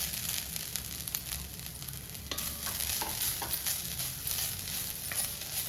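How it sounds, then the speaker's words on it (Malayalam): Grated coconut roasts in a hot cheenachatti pan for Kerala-style vendakka theeyal, giving a soft, dry, continuous sizzle broken by scraping stir strokes and light clicks, close by with no talking. "തേങ്ങ വറുക്കാനായിട്ട് ഞാൻ ചീനച്ചട്ടി അടുപ്പ് വെച്ചിട്ടുണ്ട് ഇപ്പൊ ചട്ടി ചൂടായി വന്നിട്ടുണ്ട് നമുക്ക് അതിലേക്ക് തേങ്ങ ഇട്ട് കൊടുക്കാം"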